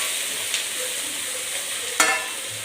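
Chopped onions frying in a pan for chicken curry, stirred now and then: an even, fairly loud sizzle with two brief spoon scrapes.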